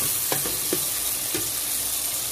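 Chili powder, spice mix and tomato ketchup fry in a pan with a steady, close sizzle, broken by a few soft scraping stirs.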